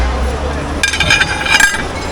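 Plates clinking as they are picked out of a dumpster: two short bursts of bright ceramic clinks over a low background rumble, with a voice talking nearby.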